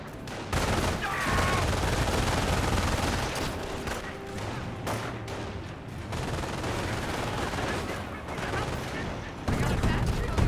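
Sustained gunfire from a squad under attack in the World War II strategy game Company of Heroes, with rapid overlapping rifle and machine-gun bursts, loud and continuous amid battle noise.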